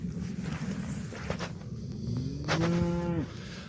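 A single drawn-out moo from cattle on an Irish farm where the herd is outwintered, rising and holding before cutting off, heard fairly close over steady wind and outdoor rumble, with no talk.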